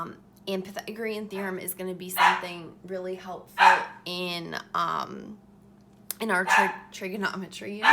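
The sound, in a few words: dogs barking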